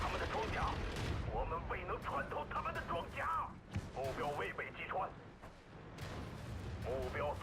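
Tank cannon fire in World of Tanks sounds as heavy booms and thuds amid battle noise, with someone talking over much of it.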